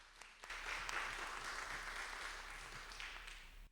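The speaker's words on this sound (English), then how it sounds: "give these doctors a big round of applause" An audience at a medical tumor board session applauds doctors, a dense patter of many hands clapping at once that holds steady for a few seconds before fading, heard at a distance and fairly quiet.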